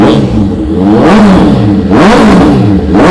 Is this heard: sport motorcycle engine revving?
yes